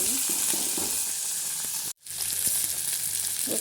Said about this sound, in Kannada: ಇವಾಗ ಹಸಿಮೆಣ್ಸಿನ್ಕಾಯಿ ಹಾಕ್ತಾಯಿದ್ದೀನಿ ಹಾಗೆ ಈರುಳ್ಳಿ ಕೂಡ ಫ್ರೈ